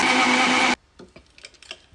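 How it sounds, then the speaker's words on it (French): A blender mixing iced tea, pineapple juice and ice cubes, a loud steady whirring grind that cuts off abruptly after under a second, followed by faint clinks and soft handling noises. "Et je vais ajouter ça au mixeur."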